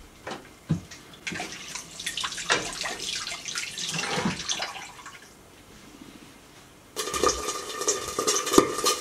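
Hands washed under a running tap in a home kitchen while making tamasen, a steady watery splash with intermittent stronger gushes, briefly quieter midway, then a brighter sustained flow near the end.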